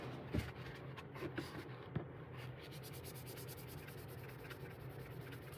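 A dry magic eraser rubbed hard across a surface, a faint, close scrubbing and squeaking in quick back-and-forth strokes with a few light knocks.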